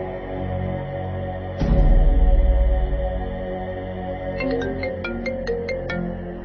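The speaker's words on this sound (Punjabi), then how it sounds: "ਮੈਂ ਹੁਣੇ ਕਰਦਾ ਐਸਐਚਓ ਨੂੰ ਫੋਨ।" A phone rings with a repeating series of bright electronic tones, clear and close, over a steady low background hum and a dramatic thud, as a call is placed to a police station officer.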